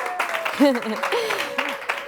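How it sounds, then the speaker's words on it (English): An audience cheers and applauds for a contestant at a live sports show, a steady wash of crowd noise and clapping with raised voices and whoops rising over it throughout. "If you think that Kemper won face-off this week, cheer loudest."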